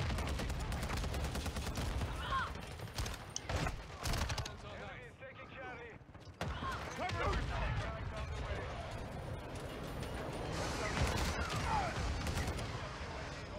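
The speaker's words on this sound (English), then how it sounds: "Man, that shotgun is amazing" Shotgun blasts and other gunfire in Call of Duty: Modern Warfare II, scattered shots and mechanical clatter amid steady game ambience, with a player talking over parts of it.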